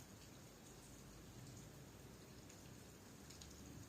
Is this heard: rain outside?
yes